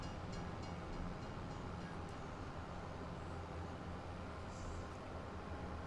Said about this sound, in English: Is there a second train coming through?